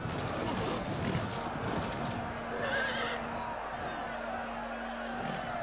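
Horses neigh and whinny amid the clamour of a medieval cavalry battle in the Total War Medieval Kingdoms video game, with galloping hooves and a steady drone underneath for several seconds while a commentator talks over it.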